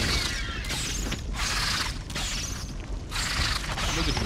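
A gun being reloaded in a King Kong video game: a run of mechanical ratcheting clicks and metallic clacks in repeated bursts under game ambience, with no talk.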